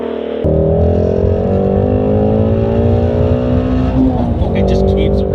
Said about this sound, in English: the exhaust note is one of the best V8 sounds of any car ever